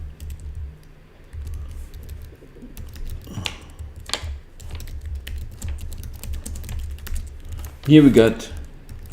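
Computer keyboard typing during a trading livestream, a run of soft, scattered key clicks under steady low background hum, with someone talking briefly and a short louder burst near the end.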